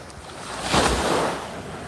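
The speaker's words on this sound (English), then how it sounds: "Some decent waves coming in." An ocean wave swells and breaks on the bay shore at Cape May, New Jersey, rushing louder in the middle before settling into steady surf and wind noise.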